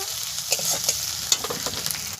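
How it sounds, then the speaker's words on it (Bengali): Chopped tomato and slit green chillies frying in hot oil for a village-style chicken curry, a steady close sizzle with a few stirring scrapes and clicks, no talking. "এটা আমি 3টে চেরা কাঁচা লঙ্কা দিয়ে দেবো, টমেটো কুচি দিয়ে দেব, দিয়ে আর একটু ভেজে নেব।"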